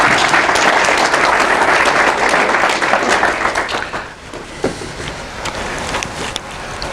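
Sustained audience applause welcoming a speaker onto the stage at a data science talk event, dense steady clapping from a crowd that gradually thins and tapers off toward the end.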